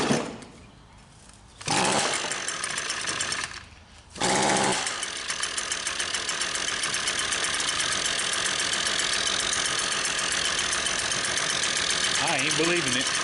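A two-stroke engine on a small tool that idles but won't rev, suspected plugged exhaust, runs with a steady buzzing idle through most of the clip after two brief sputtering starts, close and loud.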